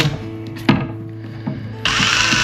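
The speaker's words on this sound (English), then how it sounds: "use your drill, and it's going to unload all that line off of your reel" A power drill unspooling fishing line off a reel spins with a steady motorized whir and a few clicks and knocks, then revs up louder and higher toward the end.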